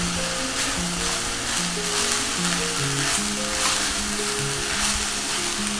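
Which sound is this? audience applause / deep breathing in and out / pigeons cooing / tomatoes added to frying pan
tomatoes added to frying pan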